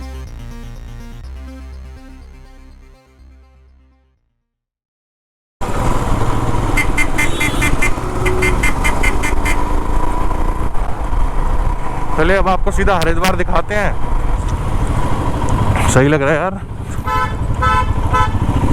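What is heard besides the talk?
vehicle horn honking in traffic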